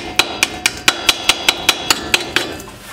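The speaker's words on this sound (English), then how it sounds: "even just kind of hitting it on the edge of the chisel with the file" A metal file strikes the edge of a chisel to knock off rust, giving eleven sharp, evenly spaced metallic clinks at a quick rhythm, close and clear with no talk.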